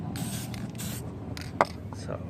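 Bursts of hissing spray come in short, repeated pulses at close range onto GY6 180cc scooter engine top-end parts, with a small clink partway through and faint low background rumble.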